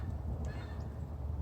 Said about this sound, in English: there are plenty of Canada geese